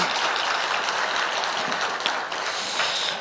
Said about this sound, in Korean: 한번 힘찬 박수 부탁드리겠습니다.